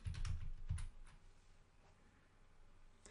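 A few quick keystrokes on a computer keyboard, close and fairly quiet, bunched in the first second with one more tap near the end, otherwise near silence.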